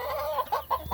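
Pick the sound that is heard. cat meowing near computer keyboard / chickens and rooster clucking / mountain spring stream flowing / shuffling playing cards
chickens and rooster clucking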